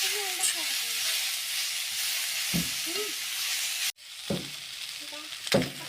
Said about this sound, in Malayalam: ഇത് പെട്ടെന്ന് സവാള മൂത്ത് കിട്ടും